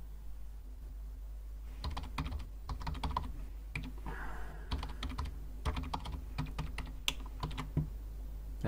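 Typing a password on a computer keyboard: bursts of quick, close key clicks in irregular clusters over a steady low hum, with no talking.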